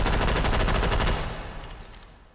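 An M1A1 Thompson submachine gun in the VR game H3VR firing a loud, rapid sustained burst of full-auto shots at close range, then cutting off abruptly into a fading echoing tail.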